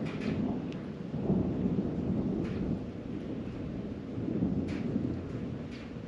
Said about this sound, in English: That was a huge thunder.